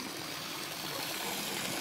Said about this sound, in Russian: Сейчас покажу, куда это выливается, теплая вода.